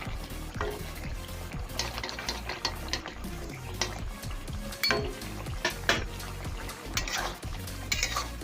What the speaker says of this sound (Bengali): একটু নাড়াচাড়া করে আমি এটাকে নামিয়ে নেব।